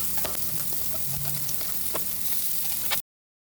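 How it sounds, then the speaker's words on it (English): Onions sautéing in leftover bacon fat give a steady, close sizzle throughout, with occasional soft clicks of stirring and no talking. "pretty much gonna saute up our onions"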